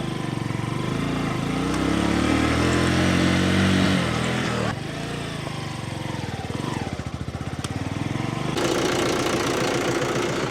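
A motorcycle engine idles with a steady, rattling drone that rises and dips in pitch, punctuated by a few clunks and shifts in the mechanical rumble.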